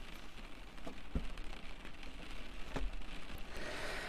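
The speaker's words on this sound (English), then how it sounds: "Looks like the rain won't let up anytime soon" Steady rain falls outside at night, a soft continuous patter with a few sharper drops tapping close by, quiet and alone with no voices.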